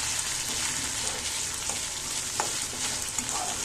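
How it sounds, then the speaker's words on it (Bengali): Garlic and ginger paste fries in a pan at close range, giving a constant soft sizzle with occasional small pops and stirring scrapes. "এক চামচ রসুন বাটা এটাকে একটু ভালো করে আমি ভেজে নেব"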